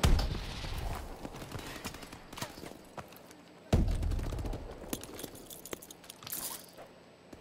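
Gunfire in the video game Call of Duty: Advanced Warfare, coming as muffled bursts and scattered shots over a steady low rumble of game noise. Two heavier thumps punctuate the stretch, all at moderate loudness with no clear talk.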